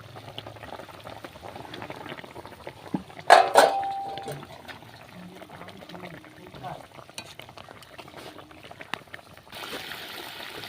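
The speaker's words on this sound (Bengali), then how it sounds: "আমার ঝোলটা খুব সুন্দর করে ফুটে গেছে" Fish curry gravy bubbling in a pot on the stove, a soft continuous simmer with one brief louder clatter near the start, heard alone without talk.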